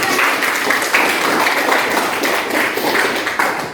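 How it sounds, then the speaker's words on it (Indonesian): Classroom applause from a group of students clapping on cue, a dense, steady patter of many hands that holds at an even level throughout with no talking over it. "Oke, tepuk tangan."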